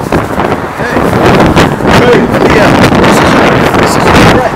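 Strong hurricane wind in Somerset, Massachusetts roars and buffets the microphone in loud, continuous gusts that swell and ease, with faint indistinct voices partly buried beneath.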